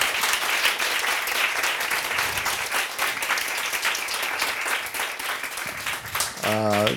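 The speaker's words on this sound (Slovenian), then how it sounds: "Potem pa imam pa en aplavz za Koljo" A Creative Mornings Ljubljana audience applauds the speaker Kolja with sustained, even clapping from a roomful of people; near the end a voice begins speaking over the last claps.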